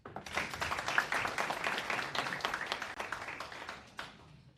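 A crowd applauding steadily, many hands clapping in a dense, sustained burst that fades toward the end.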